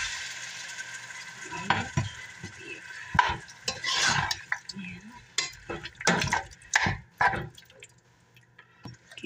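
Beef returned to a pan for mechado sizzles softly while being stirred, with irregular scraping and clinking bursts over a low, steady fry.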